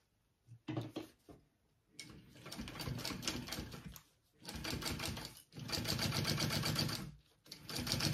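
Sewing machine running top stitching in several short bursts separated by brief pauses, a close, rapid mechanical clatter with no talking.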